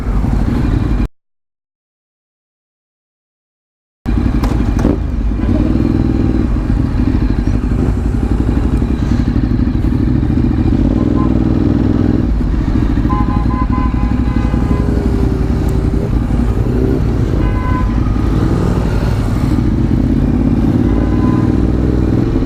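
Ducati motorcycles riding through city traffic, a loud, steady engine drone with rising revs and clattering, close to the rider after a brief silent gap near the start.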